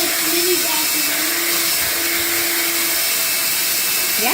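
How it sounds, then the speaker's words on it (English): A Hoover Air Cordless Lift upright vacuum, detached into handheld mini-vacuum mode, runs with a steady, loud motor whir and airy hiss that holds evenly throughout, with a faint tonal whine riding on top. "Also, you can take this off and just kind of like mini vacuum."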